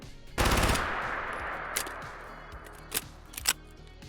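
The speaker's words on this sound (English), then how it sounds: "So for starters, a mag dump." A PPSh-41 submachine gun in a Fallout 4 mod fires a full-magazine dump: one rapid, dense burst of automatic fire lasting about a second, followed by a ringing tail and a few mechanical clicks and clacks as the weapon is handled.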